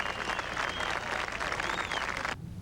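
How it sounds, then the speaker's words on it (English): Spectators at a golf tournament applaud a birdie, a dense wash of clapping from a sizable gallery, steady and fairly loud before cutting off abruptly near the end. "Nice applause."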